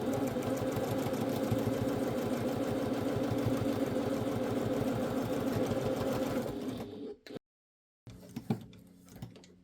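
A sewing machine runs steadily, stitching a fabric pouch seam at 2.5 mm stitch length with a fast even whir, then stops abruptly, leaving a short silence and a few light handling sounds.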